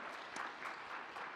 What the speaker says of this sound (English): And let's give a round of applause for Joe.